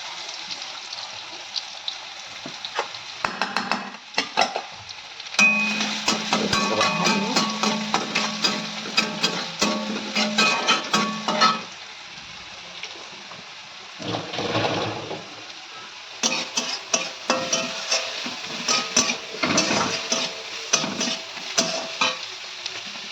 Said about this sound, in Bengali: দুটো শুকনো লঙ্কা দিয়ে দিলাম, রসুন দিয়ে দিলাম